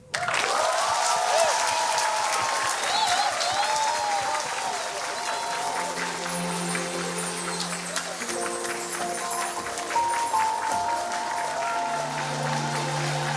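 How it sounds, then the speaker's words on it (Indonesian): Loud, sustained audience applause at a soft launch event for darisini.com, continuous clapping from a large crowd with music rising beneath it. "Maka untuk itu saya akan meminta aplaus yang sangat luar biasa untuk orang juga yang luar biasa"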